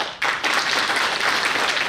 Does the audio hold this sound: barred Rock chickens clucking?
no